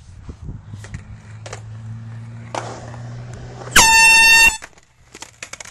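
A hidden foghorn-style air horn gives one loud, sustained blast of about a second, cutting in sharply over a skateboard scene with rolling wheels and light background noise.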